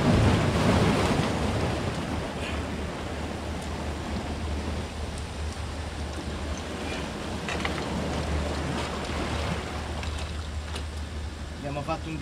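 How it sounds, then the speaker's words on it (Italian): Sea waves break and wash around a fishing spot, a steady broadband roar mixed with wind buffeting the microphone, loudest at the start and then holding at a constant level throughout. "Queste onde di merda,"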